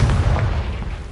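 A Confringo fire spell bursts in Hogwarts Legacy, a loud, deep, rumbling boom that fills the short moment and fades slightly toward the end.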